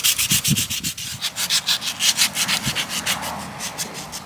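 Steady back-and-forth sanding strokes rasp against a painted BB gun, a rhythmic scratchy rubbing repeated about four times a second, close and continuous.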